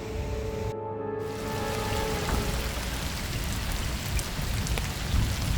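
Heavy rain pours steadily near a hill-station village in Maharashtra, a dense continuous hiss from start to finish with no voices and only a brief tonal hum fading out early on.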